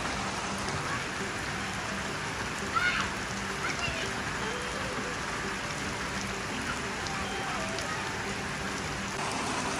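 Heavy rain falling at a school, a dense steady hiss of drops pounding surfaces with running water beneath, continuous and fairly loud throughout.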